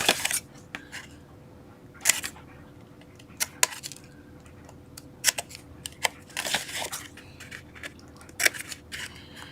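Scissors snip a tab on a paper box prototype, a run of crisp close cuts and small paper rustles, irregular and spaced out, with no speech.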